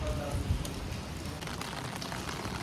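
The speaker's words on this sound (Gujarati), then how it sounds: "આજ તો સવારમાં વરસાદ આવે છે" Steady rain falls on surfaces during a morning downpour in Surat, a dense continuous patter close by, with a voice briefly audible beneath it.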